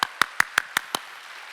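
Six sharp, evenly spaced hand claps ring out in a church during a Korean Wednesday worship service, loud and close, then fade into a quiet room.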